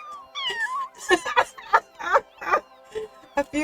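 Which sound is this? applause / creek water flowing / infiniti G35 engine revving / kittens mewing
kittens mewing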